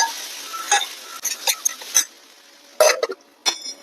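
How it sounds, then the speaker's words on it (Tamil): Coriander seeds dry-roasting in an empty pan, with a spoon scraping and rattling them around in short, irregular bursts of clinks and scrapes. "தீயாமல் அதை ரோஸ்ட் பண்ணிக்கோங்க வெறும் கடாயில்"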